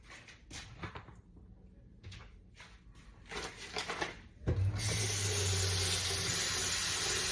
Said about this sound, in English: And I'm gonna wash my shrimp off.